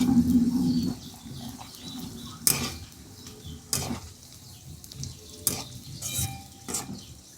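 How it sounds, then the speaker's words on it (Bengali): Cashews, raisins and grated coconut fry gently in oil over low heat, with a soft sizzle under repeated scraping and clinking strokes of a spatula against the pan. "ওই অবস্থাতে এই বাদাম আর নারকেল এগুলো দিয়ে অল্প আঁচে ভেজে নেব"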